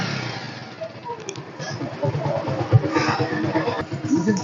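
A used motorcycle at a budget bike dealer is kicked over and sputters to life, its engine knocking steadily and close by, with a voice talking over it.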